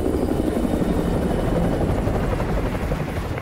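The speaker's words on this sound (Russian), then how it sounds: "Вертолет противника!" Enemy helicopter in Call of Duty: Modern Warfare 2 Remastered, a loud, steady rotor drone with dense low thumping that fills the whole stretch, close and continuous without talk.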